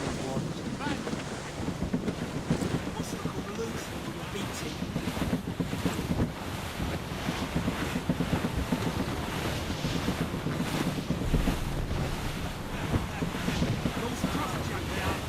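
Wind gusts across open sea around a sailing ship in Assassin's Creed Rogue, a steady broadband roar with waves washing beneath it, continuous and fairly loud throughout, with voices talking over it.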